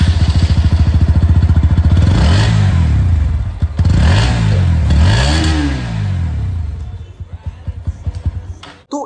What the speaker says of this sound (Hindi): अब मैं आप लोगों को यहाँ पर जो NS 125 है उसकी आवाज़ भी सुना देता हूँ